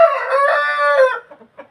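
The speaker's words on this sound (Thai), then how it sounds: "มีแต่ไก่งามๆเด้อบ่" A fighting rooster crows loudly and close for about a second, a long harmonic call, then follows with a few short, softer clucks.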